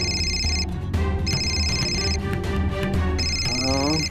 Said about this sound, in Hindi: दुबई से फोन आ रहा है